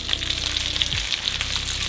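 Chicken and vegetables sizzle steadily in oil in a frying pan, a continuous close crackling hiss with a brief stir partway through.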